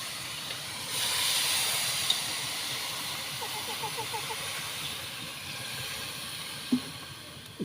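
Water pours steadily into a pot for arroz caldo, a broad rushing hiss that swells after the first second and runs on, with faint clinks and a sharp knock near the end.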